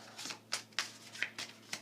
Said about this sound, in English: I apologise for my shuffling.